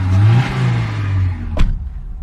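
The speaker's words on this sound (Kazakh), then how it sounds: "катализаторды алып тастағасын глушительдің дауысы қатты шығып тұр" A Mercedes engine with its catalytic converter removed, revving loudly through a harsh, rumbling exhaust, then dropping back as a short mechanical clack sounds, close by.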